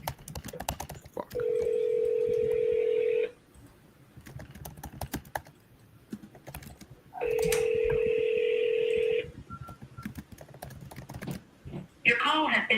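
A telephone call rings out with two long, steady ringback tones separated by a pause, clear over a quiet room with faint background noise.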